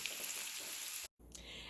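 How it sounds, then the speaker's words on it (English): Onions sauté in a pan with a soft, steady sizzle and hiss, fairly quiet and continuous, broken by a brief moment of silence. "So right now I am sauteing some onions"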